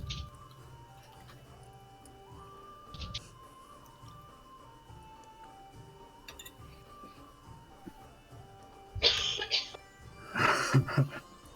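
A person coughs during an online tabletop game session, two short bursts near the end over a faint ticking background, with a brief softer cough earlier.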